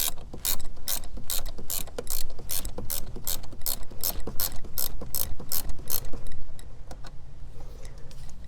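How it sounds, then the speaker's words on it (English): A ratchet loosens the positive terminal nut on a 2020-or-later Toyota Corolla battery, giving a fast, steady run of sharp metallic clicks close up with brief pauses between strokes and no talking. "loosen the positive terminal nut"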